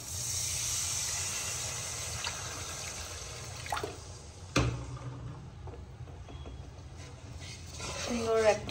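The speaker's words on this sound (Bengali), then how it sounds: "এবার এর মধ্যে জল মিশিয়ে দেব" Water splashes into hot frying masala with Kashmiri red chilli powder for a pomfret curry, giving a sharp hissing burst followed by bubbling sizzle and a few utensil clinks. A voice talks faintly over it.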